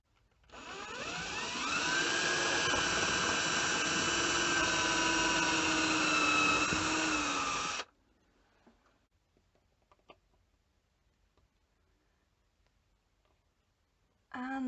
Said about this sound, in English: So I drilled a hole, pilot hole, and then I'm just screwing this in.